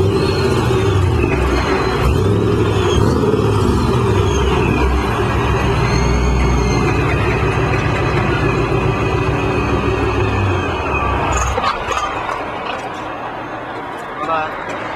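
A GT car's engine rumbles loudly and revs as the car pulls away, with people talking over it, before the sound falls off sharply near the end.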